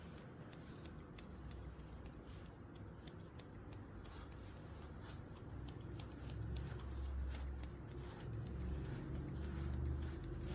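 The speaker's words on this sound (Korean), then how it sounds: "가위를 사용하면서 크게 일단은 한번 줄여 놓으세요" Scissors snip steadily through hair to bulk it down, a quick run of close, crisp clicks repeating throughout over a faint room hum, with no talking.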